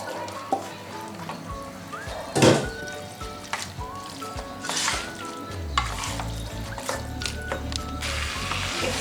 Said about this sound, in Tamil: இப்போ இந்த சிக்கனை வந்து நான் இதில் போட போகிறேன்.